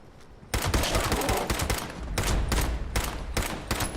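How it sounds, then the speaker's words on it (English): Gunfire in Fallout 76 brings down a stag. An automatic burst opens loud and close, then individual shots crack out at irregular intervals, with no talking over them. "we're gonna get as close as we can and then shoot the fuck out of it"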